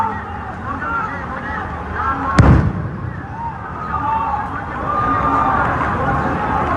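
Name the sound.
tear gas shells fired to disperse protesters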